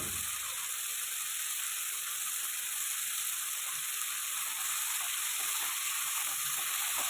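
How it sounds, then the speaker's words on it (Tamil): Onion and tomato sauté in a pan for a gourd and bean curry, giving a steady, even sizzle that runs the whole time with no voices over it. "வெங்காயம் தக்காளி நல்லா வதங்கட்டும்"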